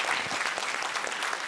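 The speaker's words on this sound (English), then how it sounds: "And please give him a round of applause." A conference crowd at a food forum's kitchen stage claps for a chef, a brief burst of dense applause heard alone and fairly close.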